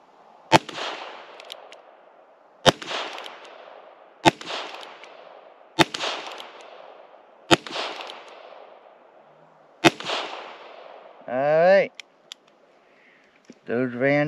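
Six gunshots from a Heritage Rough Rider revolver firing CCI Blazer rounds, sharp evenly spaced cracks about one and a half seconds apart outdoors, followed by brief clicking mechanical handling sounds.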